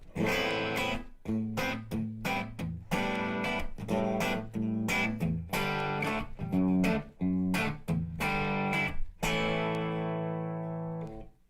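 Electric guitar played through a Blackstar amp with the reverb switched off, a run of loud dry chords and short stabs with sharp stops and gaps, ending on a held ringing chord.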